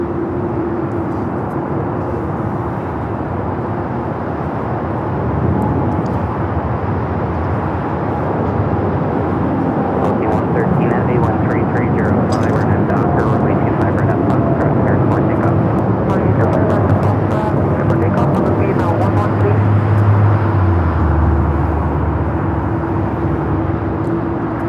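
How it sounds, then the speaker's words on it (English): An American Airlines Boeing 787-8 Dreamliner at Los Angeles airport gives off a steady, loud roar of jet engines that holds throughout, with a low rumble rising toward the end, while people talk over it. "This is the 787-8 Dreamliner with American."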